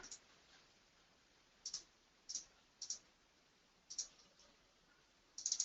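Computer mouse clicks during software work on a contour-mapping program, six crisp faint clicks spaced irregularly over a quiet background, with a quick double click near the end.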